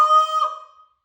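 A single sharp honk from a short reed goose call imitating a goose, loud and close, with a bright, reedy tone that fades out within about a second.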